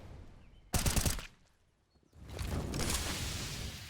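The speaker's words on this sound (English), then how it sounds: "Shots ring out" Gunfire in an esports match of a tactical shooter video game, a sharp loud burst of rapid shots followed by a pause, then a longer sustained stretch of firing and game noise.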